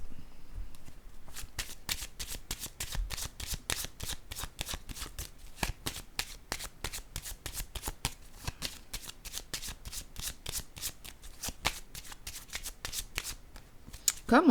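Tarot cards riffle-shuffled in a long, rapid run of crisp close flutters, ending as a card is set down, with someone speaking French softly beneath.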